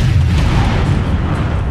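An AC-20 autocannon in MechWarrior 5 fires in a loud, deep booming blast that rumbles heavily and fades over a couple of seconds, with no voices over it.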